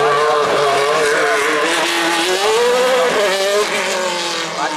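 A race car climbs a hill course during a training run at Wolsfeld, its engine loud and close, revving hard with shifting pitch through gear changes.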